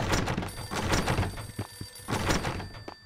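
A telephone rings in the video game Max Payne, sounding as a series of repeated bell-like bursts at moderate volume with no talk over them.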